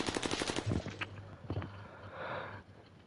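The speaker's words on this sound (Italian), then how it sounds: "Va, continua a sparare." Automatic gunfire in Warzone, a rapid close burst of shots followed by a few scattered single cracks and a fading rumble, loud and fairly alone.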